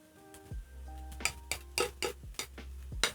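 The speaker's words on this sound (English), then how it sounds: "Because my potatoes are almost crispening up, I'm going to add in my bacon" Sliced bacon dropping into a pan of crisping potatoes, heard as a quick series of metallic clinks and scrapes of a utensil against the pan over a low hum, with no voices.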